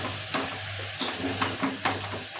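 Spoon stirring a coarse ground paste of coconut, ginger and garlic into drumstick leaf bhaji in a pan, giving a few soft scraping strokes over a low frying sizzle, close and steady with no voices.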